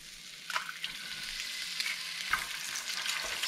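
A cracked egg frying in a little oil over high heat for fried rice, sizzling hard and close with sharp spitting pops and stirring scrapes across a few seconds, with no voices.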